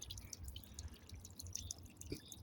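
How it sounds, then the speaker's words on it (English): Water drips and splashes outdoors on a hot day in the Russian hills, faint scattered droplets tapping irregularly over a low background rumble. "Yeah, I can see the water dripping, right?"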